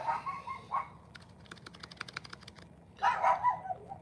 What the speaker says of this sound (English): It has the most annoying freaking bark.